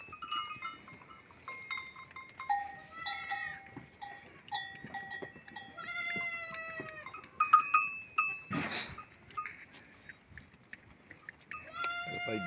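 Goats and sheep on a farm field bleat repeatedly, several wavering calls overlapping at moderate distance amid a faint cowbell clink and a brief rustling burst.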